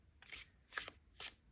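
Three quick riffles of a tarot deck being shuffled by hand, each a short papery burst, close and quiet with brief pauses between them.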